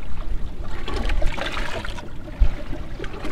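Waves splash and slosh against a small fishing boat at sea, irregular watery surges close by with a thump near the middle, and no one speaking.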